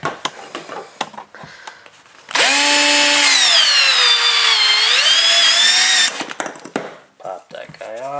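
A power saw cuts through wood in a tiny house build, a loud sustained whining cut of about four seconds, framed by clattering handling sounds before and after.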